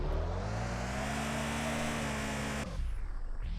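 A drift car's engine in the video game Car For Sale Simulator drones loudly and steadily for a couple of seconds, then cuts off abruptly into a quieter background.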